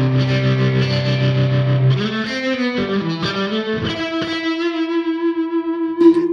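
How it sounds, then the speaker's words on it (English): Electric guitar through a Boss Katana amp with tight stereo slapback delay, a sustained distorted chord giving way to picked notes with short echoes trailing each one, loud and alone. "got really nice tight stereo slapback delay"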